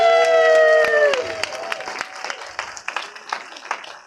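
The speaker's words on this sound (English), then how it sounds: "And another round of applause!" Applause and whoops from a small audience at an amateur film premiere, starting over a fading musical tone, then settling into scattered, uneven claps with occasional cheers and a bit of crowd noise.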